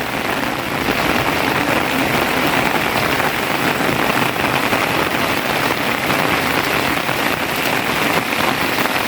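Heavy, steady rain pours down without pause, a dense loud hiss of drops striking surfaces close by, with no voices.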